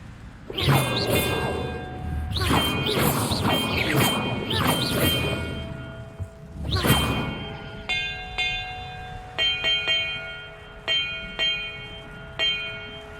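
Ringing bells in Hogwarts Legacy sound out one after another: several loud, clanging strikes with long shimmering tails at first, then a series of lighter, evenly spaced chimes that fade out.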